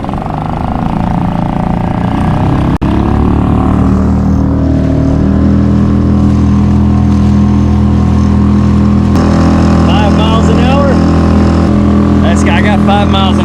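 Suzuki 2.5hp outboard motor mounted on a Nucanoe kayak runs at full throttle, a loud steady droning hum with water splashing, while someone talks over it.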